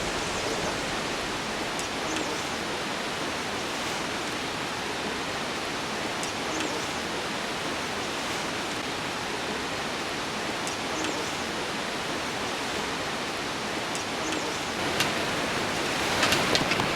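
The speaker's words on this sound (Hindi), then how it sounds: "सामने पहाड़ी से बहता झरना नीचे मंदाकिनी में विलीन हो रहा है।" A mountain waterfall pours down a hillside into the Mandakini river near Kedarnath, a dense, unbroken roar of rushing water that stays even from a moderate distance.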